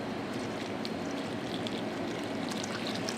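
Hot pickling liquor of dissolved sugar, just brought to the boil, pours steadily onto vegetables, a soft continuous splashing trickle heard close and quiet with no talk.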